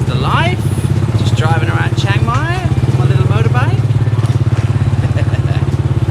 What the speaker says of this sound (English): Just driving around Chiang Mai on my little motorbike.